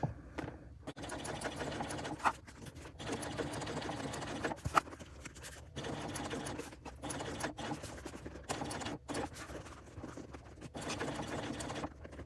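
A sewing machine stitches a small bucket bag slowly with increased thread tension, a close rattling hum broken by several short pauses and restarts across the stretch, with no speech.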